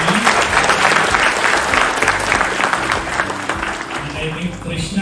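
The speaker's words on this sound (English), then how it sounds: "Please give a special clap to him." An audience applauds during a speech at NIT: loud, dense, sustained clapping from a large crowd for about five seconds, with a steady wash of overlapping hand claps and some voices mixed in.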